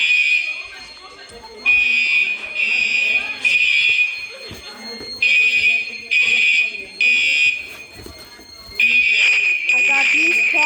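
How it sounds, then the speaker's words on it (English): A restaurant fire alarm at an Olive Garden sounds in loud, shrill electronic bursts that repeat in an uneven on-off pattern, with voices and background chatter under it. "that's the fire alarm of this restaurant"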